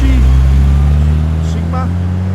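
A Mitsubishi street car rolls past while leaving a car show in Tempe, Sydney, its engine a loud steady low drone close by, with people talking over it.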